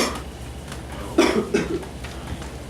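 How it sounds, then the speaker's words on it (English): A single short cough bursts out over quiet room tone, with a small follow-up hack. "Good vampire cough"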